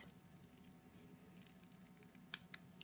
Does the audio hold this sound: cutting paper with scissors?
yes